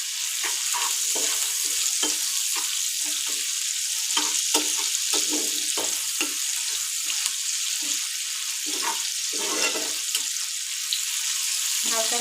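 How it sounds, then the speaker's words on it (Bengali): Onions with a light sprinkle of salt fry in a hot pan: a steady, close sizzle runs throughout, broken by frequent clicks and scrapes of a spoon stirring against the pan. "হালকা করে নুন দিয়ে দেবো যাতে পেঁয়াজটা সিদ্ধ হয়ে যায়।"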